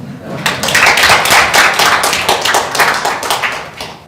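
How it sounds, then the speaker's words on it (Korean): Audience clapping at a policy forum on overseas Korean diaspora policy, a burst of close, crisp hand claps that swells quickly and continues steadily before easing off. "아주 큰 박수를 사."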